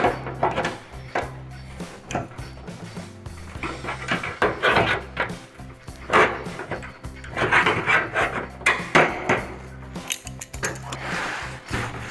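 A hammer and dolly straighten a sheet metal flange in a workshop, producing repeated sharp metallic taps and knocks in irregular bursts, close and moderately loud.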